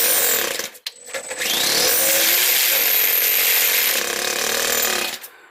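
Small four-stroke engine converted into an RC Mercedes-Benz truck, started cold: a sharp pull-start burst, then a steady, loud, buzzing mechanical run that holds for several seconds before cutting off.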